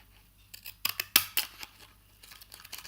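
Scissors snip through a non-biodegradable baby wipe up close, several sharp crisp cuts in an irregular cluster, loudest mid-way, followed by softer handling and rustling in a quiet room.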